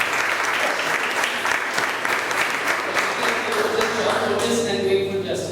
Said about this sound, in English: Please give a big round of applause to Toastmasters Srinivas and Johnson.